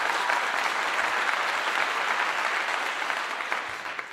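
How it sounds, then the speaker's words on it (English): Steady applause from a crowd at a live sports talk show, a dense, even clatter of clapping that stays loud throughout and eases slightly near the end, with no voices over it. "Give you all a clap."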